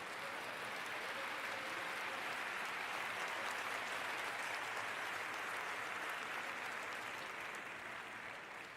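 Sustained applause from a large church congregation at a Sunday service, a dense steady wash of many hands clapping for nearly nine seconds with no speech over it.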